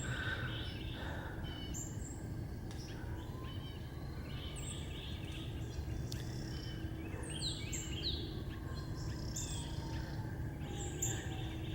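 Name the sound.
birds singing outdoors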